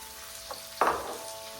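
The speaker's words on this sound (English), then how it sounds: "and saute until they turn light golden" Garlic drops into hot oil already holding green chili and curry leaves, setting off a short, sharp sizzle burst after a faint tick, then fading quickly.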